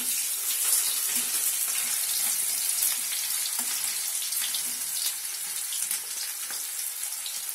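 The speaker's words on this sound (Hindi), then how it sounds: "अभी इसमें फ्राई करने के लिए ऑनियन दे रहे हैं।" Sliced onions frying in a pan of oil with browned cumin, giving a steady, bright hissing sizzle with small crackles that holds at an even level throughout, with no voices.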